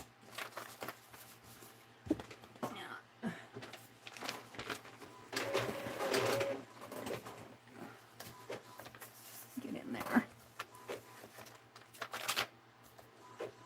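A home printer works in bursts of clicking, whirring and feeding sounds, moderately loud and uneven, with a brief spoken phrase mixed in.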